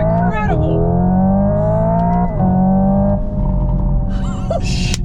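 Synthetic exhaust sound from a Hyundai Ioniq 5 N electric car played through speakers to mimic a gasoline sports car, a loud steady engine drone with rising revs and a brief shift dip, with voices at the end.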